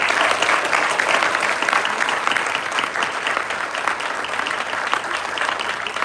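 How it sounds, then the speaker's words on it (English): Dense, steady applause from an audience after a mayor's State of the City address in Boulder City, filling the whole stretch at an even, full level with a faint murmur of voices underneath. "Now, the big applause is for Holly Webb and Carly Poindexter"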